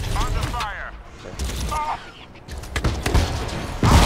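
Gunfire in the video game Crysis 2, with loud bursts of shots and thuds in an ongoing firefight, while a player talks over it throughout.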